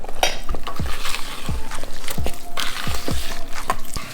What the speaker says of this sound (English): Just mix it all up